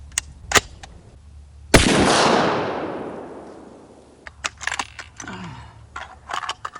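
A 6.8 Creedmoor rifle fires a single loud shot while fire-forming a case, a sharp crack followed by a long decaying echo, with scattered clicks and handling noises before and after.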